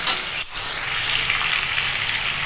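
Small chicken pieces for chilli chicken fry in hot oil with a loud, steady, close sizzle and a brief dip near the start.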